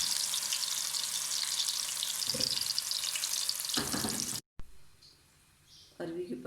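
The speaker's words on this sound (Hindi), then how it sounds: "ये हमने कटिंग करके इनको ब्राउन किया था।" Taro leaf pieces brown in a pan with a dense, close hiss of frying and occasional stirring scrapes, then an abrupt cut to a much quieter, fainter sizzle broken by a few clatters.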